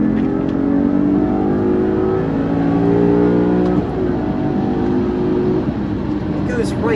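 A Maserati 4200 with the F1 Cambiocorsa gearbox accelerates hard from inside the cabin, the engine revving up loudly, then dropping in pitch as it quickly shifts into third gear and climbs again.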